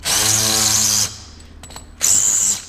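A power drill with a countersink bit runs during a floor install, whining steadily for about a second, stopping amid a few faint knocks, then starting again with a second loud burst close by.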